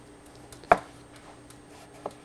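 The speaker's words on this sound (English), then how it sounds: "I'm going to make 1-inch dice or 1-inch cubes for the melon" A knife dices melon into one-inch cubes on a cutting board, with one sharp chop, a few faint taps and a second softer chop, close by.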